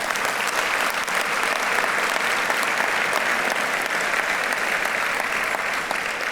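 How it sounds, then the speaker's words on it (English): An audience at a mayor's interfaith prayer breakfast in Pasadena gives a round of applause, a steady, dense wash of clapping from many hands that fills the room without a break. "Let's give them a round of applause."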